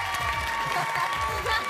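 Studio audience applause and cheering for the day's chimney-sweep contestants on a French TV game show, a dense noisy burst under a host's voice talking over it.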